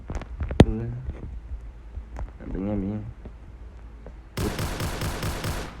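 Explosions from the Roblox game All Star Tower Defense: a rapid burst of rhythmic blasts near the end, preceded by a voice talking over quieter game sounds.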